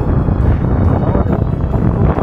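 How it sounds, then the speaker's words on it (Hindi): Strong monsoon wind buffets the microphone at a viewpoint near Khamboli Dam, a loud, continuous roaring rush that fills the whole stretch without a break. "हवा चल रही है और बहुत ही ज़्यादा तेज़ हवा है."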